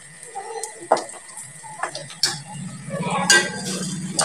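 A spoon scrapes and clinks against a pot as chickpea pulao rice is mixed, several uneven knocks and stirs at close range with a low hum in the background.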